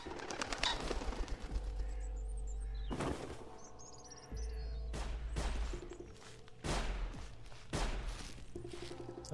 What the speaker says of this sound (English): Definitely shots coming from that direction